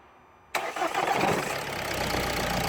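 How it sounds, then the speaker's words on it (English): Ford Mondeo with a limp-mode fault is started, the engine catching abruptly after a short quiet pause and settling into a steady, fairly loud idle. "Start it up."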